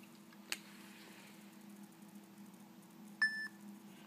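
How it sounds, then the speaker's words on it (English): An IBM ThinkPad T23 laptop gives a single short, high electronic beep on shutting down, a clear tone lasting about a quarter second over a steady low hum in a quiet room. An earlier faint click comes first. "You know it's off when you hear that beep."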